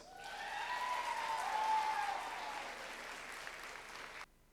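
Audience applause at a championship dog show, a sustained burst of clapping from a crowd that swells, holds steady, then cuts off abruptly near the end.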